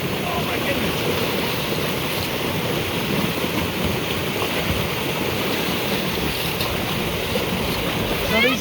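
Irrigation water rushing past knee-high muck boots in a high-desert field channel dammed with old cement form boards, a loud continuous broadband gush close by with no pauses or voices.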